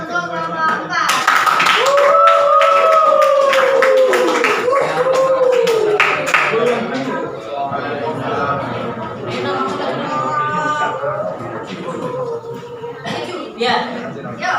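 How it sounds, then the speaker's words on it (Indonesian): Classroom applause for a student group, with a burst of clapping from many hands that stays fairly loud, while voices chatter and laugh over it. "Oke, kita beri aplaus untuk kelompok 4."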